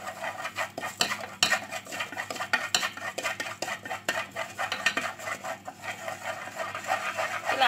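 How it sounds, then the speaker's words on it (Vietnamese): Vegetarian mushrooms being stirred in a pan of caramelized sauce for braising, a steady run of scraping and clinking utensil strokes against the cookware, close and continuous without talk. "Khi mà mình đảo cho đến màu bánh rán thì mình sẽ cho nấm vào để kho."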